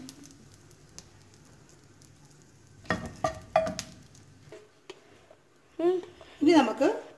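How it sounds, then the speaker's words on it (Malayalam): Curry leaves dropped into a pan of frying peanuts over a low flame crackle and sizzle in short bursts, growing louder toward the end, with someone speaking in between. "ഇനി ഇതിലോട്ട് കുറച്ച് കറിവേപ്പിലിട്ട് കൊടുക്കാം ഈ കറിവേപ്പില ഒന്ന് വറുത്തെടുക്കണം"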